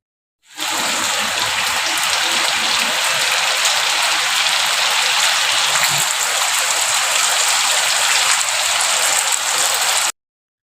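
Heavy rain pours down in a steady, dense hiss that rises quickly, holds at an even loud level for about ten seconds, then stops abruptly, with no voices.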